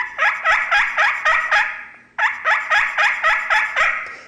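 Slate friction call worked to imitate a young wild turkey hen, giving two runs of rapid yelping notes, about six raspy strokes each separated by a short pause, loud and close with no talking.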